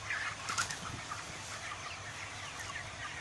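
Broiler chickens packed in a crowded poultry house, a dense continuous wash of clucking and chirping from many birds at moderate distance, with no one speaking.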